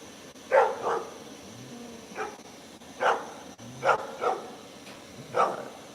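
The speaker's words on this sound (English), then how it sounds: "Figure out why the dogs are barking out of nowhere." Several dogs bark in short, separate bursts, about seven over a few seconds, at moderate distance with some yips, against quiet background hiss.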